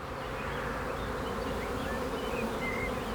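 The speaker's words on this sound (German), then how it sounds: "Judith und Dennis haben von einem befreundeten Imker Bienen hier stehen" Honeybees from a beekeeper's hives hum steadily in a meadow orchard, a dense continuous buzz with individual bees passing near, no voices over it.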